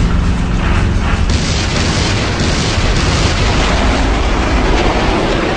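A film scene of dinosaur missiles exploding fills the air with a loud, continuous, rumbling barrage of blasts and booms, heavy low end throughout with no pause.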